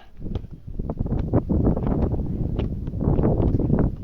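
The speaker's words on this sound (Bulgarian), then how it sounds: "Само, че има лош вятър." Strong wind outdoors at an informal football kickabout, blowing as loud, gusty rushing buffets against the microphone for several seconds with no clear speech.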